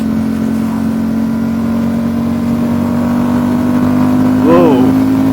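A 2019 Ducati Diavel 1260 S motorcycle with a Termignoni exhaust hums along at a steady, loud cruise, then swells briefly as it accelerates near the end, with wind noise and a rider's voice over it.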